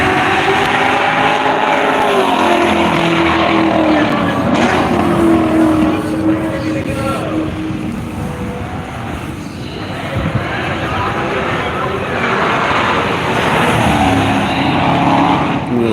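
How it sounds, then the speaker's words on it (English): A Chevrolet Corvette E-Ray race car passes on the Worldwide Technology Raceway, its loud engine note rising and falling as it goes by. A second surge of engine sound follows, and a voice talks faintly underneath. "Here comes the E-Ray again."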